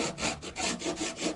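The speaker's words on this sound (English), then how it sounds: "And I take my Japanese saw and cut this section right here" A Japanese pull saw cuts through a wooden workpiece on a workbench in a steady back-and-forth rhythm of about six raspy strokes. The sawing is close and moderately quiet, with no talking.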